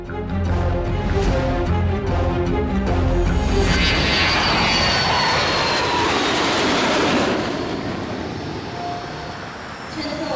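An airplane at an airport gives a loud, sustained engine roar that swells and rumbles for several seconds, then gradually thins out as it moves off, heard without talk.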